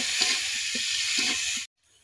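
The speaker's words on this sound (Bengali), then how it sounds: "এবার এইগুলো দিয়ে আমি ভেজে নিব। যতক্ষণ না ব্রাউন কালার হয় ততক্ষণ আমরা ভেজে নিব।" Chopped onion and garlic fry in hot soybean oil, a steady bright sizzle that holds evenly up close for over a second and a half, then cuts off abruptly into near silence.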